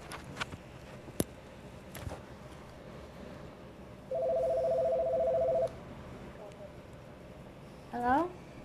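A telephone number is dialed, heard as one sustained keypad tone in quiet surroundings, followed a couple of seconds later by a brief electronic ring.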